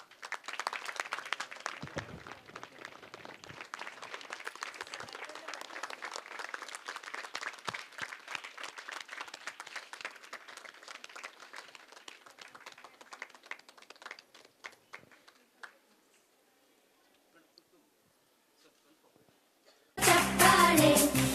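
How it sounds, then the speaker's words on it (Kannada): A stage-event audience applauds brave women: steady, dense clapping for about fifteen seconds that thins and fades to near silence, then a loud, abrupt new burst of noise right at the end. "ಚಪ್ಪಾಳೆ ಧೈರ್ಯ ಶೌರ್ಯವ ಮೆರೆದಿರುವ ವೀರ ವನಿತೆಯರ ಚಪ್ಪಾಳೆ ಚಪ್ಪಾಳೆ ಚಪ್ಪಾಳೆ"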